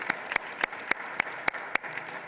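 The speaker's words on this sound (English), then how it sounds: "let's have a round of applause for the staff members who helped so much" Symposium audience gives a round of applause for staff, a sparse scatter of claps with several sharp, evenly spaced louder claps standing out near the microphone.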